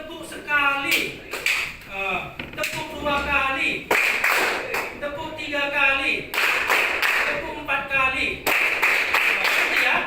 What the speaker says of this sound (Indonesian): Tepuk sekali, tepuk 2 kali, tepuk 3 kali.